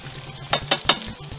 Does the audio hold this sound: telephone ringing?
no